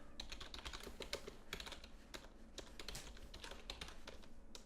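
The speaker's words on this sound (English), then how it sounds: "Really sorry about the typing." Rapid, continuous clatter of keys on a computer keyboard, fairly close and steady throughout with no voice, typed during a Unity 3D tutorial on building Minecraft-style chunk generation.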